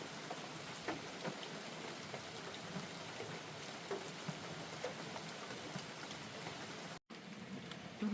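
Continuous rain pattering on the trees and forest floor along the Appalachian Trail in North Carolina, with scattered drips standing out against the steady hiss; a brief dropout near the end, no voices.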